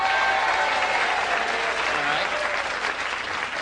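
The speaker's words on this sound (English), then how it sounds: "married folks applaud" Married members of a 1984 Las Vegas stand-up comedy audience applaud in a dense, steady burst of clapping that gradually thins out toward the end.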